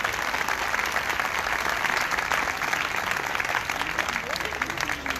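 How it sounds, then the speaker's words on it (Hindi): A church congregation at a parish gathering claps steadily and enthusiastically, a continuous, evenly loud wall of many hands with no speech over it. "तो अपने मनास साहिबान के लिए दिल खोल कर तालियां बजाएं।"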